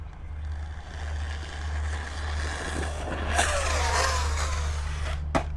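An Arrma Typhon 6S RC truck speeding up for a launch, its electric motor rising to a loud whine over steady wind rumble, then a sharp knock near the end.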